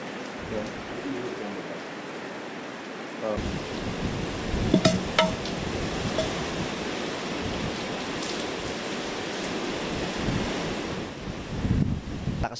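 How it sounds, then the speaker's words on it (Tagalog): Super Typhoon Nando drives heavy rain and strong wind in Cagayan at night. Steady loud roaring wash with buffeting gusts and a few sharper bursts. "Lakas pa rin nga itong hangin dito sa kinaroroonan namin at yung pag-uulan ay ayan, napakalakas pa rin"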